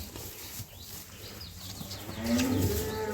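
Dairy cows at a farm, including milking cows, give one low, drawn-out moo late in the sequence, rising out of a steady background of shuffling and faint bird chirps.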